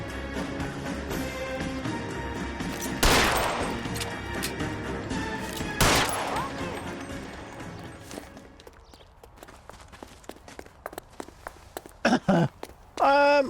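Several sharp, loud gunshots crack out in L.A. Noire, two big blasts early on and a cluster of quicker pops near the end, set against game ambience and clattering movement.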